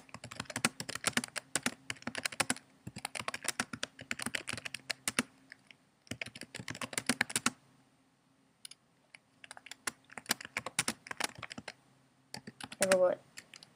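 Brisk typing on a computer keyboard, close and clear, comes in dense clattering bursts broken by a few short pauses, with a faint voice near the end.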